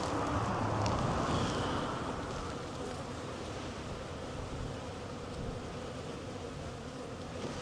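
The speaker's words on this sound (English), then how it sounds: "these are the last few bees that are emerging" Honeybees emerging from a hive colony during an inspection make a continuous close buzzing hum, loudest at the start and then steady, with some wind noise against the microphone.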